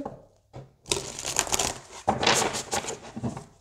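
Oracle cards being shuffled by hand, a dense run of papery riffling and flicking that starts after a brief pause and continues in close, bursty waves with no talking.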